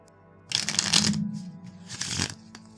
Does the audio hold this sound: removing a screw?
no